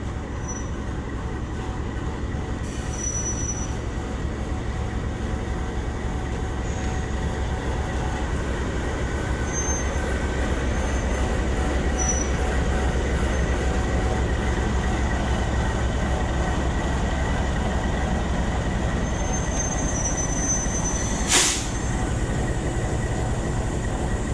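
An old passenger coach of the Awam Express, travelling between Rawalpindi and Lahore, rolls along with a steady rumble and rhythmic wheel clatter throughout, and a brief sharp squeal or hiss rises near the end.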